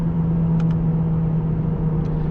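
A 2024 Mercedes CLA 35 AMG coupe accelerating in third gear at around 130, heard from inside as a steady, even engine drone for a couple of seconds with no talk.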